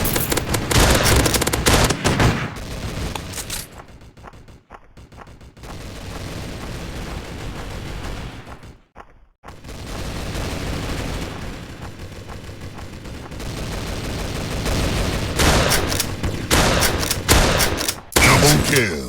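Shotgun fire in a shooting video game, loud dense volleys of blasts in several bursts separated by brief quiet gaps, with game sounds mixed in.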